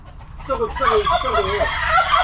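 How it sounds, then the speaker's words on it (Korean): An unusual-looking chicken at a nature-experience farm gives a loud, close, rapid run of gobbling, warbling calls lasting a couple of seconds, with no talk over it. "어우 이게 닭이 특이하다."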